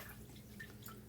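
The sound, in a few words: washing a paintbrush in a cup of water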